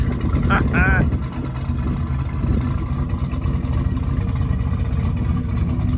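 A car engine revs through a Flashark electric exhaust cutout, giving a loud, deep burbling exhaust note with a sharp blip near the start before it settles into a steady rumble. Someone talks over it.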